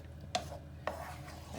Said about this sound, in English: Stir that through.